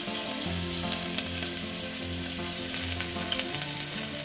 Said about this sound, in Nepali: मैले खुर्सानी फ्राई गर्न लाएँ।